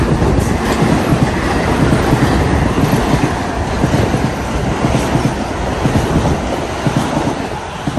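A Metro-North commuter train at a station, rolling close by with loud continuous rumble and rhythmic clickety-clack of wheels over rail joints, alone without talk.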